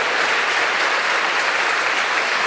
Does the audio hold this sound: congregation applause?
yes